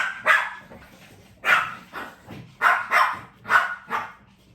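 Several dogs bark at close range in a loose, repeated rhythm of about six sharp barks over a faint steady background, with no talking.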